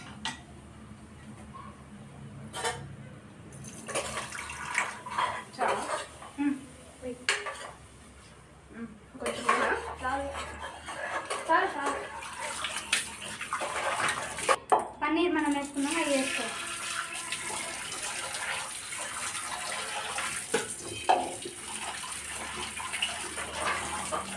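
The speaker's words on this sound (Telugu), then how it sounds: "ఇంత కొంచెం వాటర్ పోయా" Water splashes and trickles into a pot of paneer biryani amid clinking of utensils and dishes, with a voice talking now and then in a busy kitchen.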